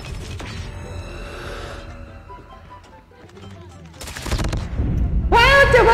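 An MSMC submachine gun fires in a video game, rapid automatic bursts with mechanical clatter; a dense loud stretch opens, a quieter gap follows, then fierce bursts return toward the end amid game sounds and a voice.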